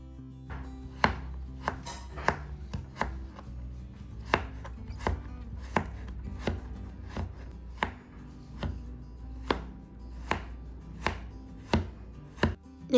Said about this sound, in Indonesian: aku potong ini tuh sekitar 3 wortel